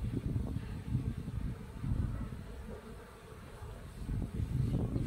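Honey bees buzzing around hives as frames are moved into clean hives during a spring inspection, a dense low drone that swells and eases throughout, close and continuous, with no talking.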